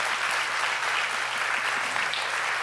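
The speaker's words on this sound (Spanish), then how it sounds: "vamos a darles un aplauso de" A church congregation applauds in a steady, dense wash of clapping that fills the whole stretch evenly, with no speech over it.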